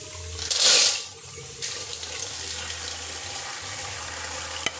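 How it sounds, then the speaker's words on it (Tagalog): Running tap water pours into a basin while snails are washed, a loud splashing gush at first, then a softer continuous flow and trickle with faint sloshing. "Ganito talaga sa ganitong mga pagkain, kailangan hugasan ito ng ilang beses hanggang sa maging malinaw yung kanyang tubig."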